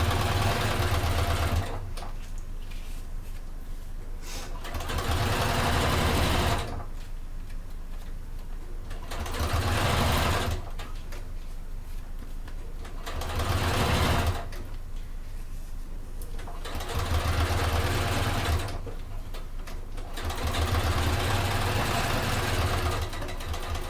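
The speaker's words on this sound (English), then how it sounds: "And top stitching 1/8 of an inch away from the folded edge." Sewing machine top stitching a PU fold-over clutch bag 1/8 inch from the folded edge, running in repeated bursts of steady whirring separated by short pauses, close and loud with no talk.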